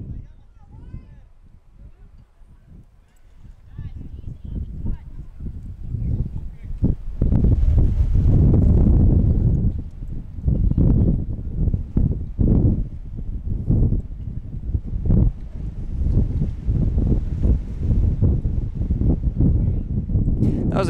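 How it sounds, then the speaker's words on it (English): Wind buffeting the microphone at an outdoor high school soccer match: loud, gusty low rumble that swells and fades throughout, with people talking under it. "It's so windy."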